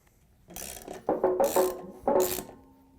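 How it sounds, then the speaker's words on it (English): A ratchet wrench fitted with a 9/16 socket tightens the pulley bolt on a Frigidaire/Electrolux washing machine inner tub assembly. It makes a few quick close bursts of ratcheting clicks in short strokes with brief pauses between, and no voices. "we're going to use our wrench with a 9/16 socket to tighten it down"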